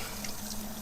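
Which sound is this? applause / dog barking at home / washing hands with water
washing hands with water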